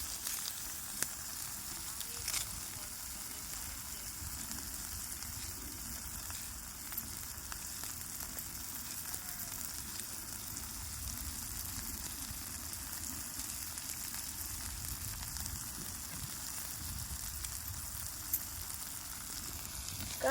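Chopped onion sizzles and crackles steadily in hot oil in a pan, a soft continuous hiss with occasional pops and faint stirring, heard close and alone.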